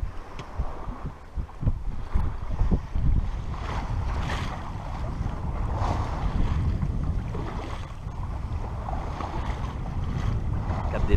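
Sailboat running close-hauled in a north-northwest wind off Porquerolles, with steady wind and water rush filling the whole stretch, low rumbling buffets and hull slaps near the start, and no voices.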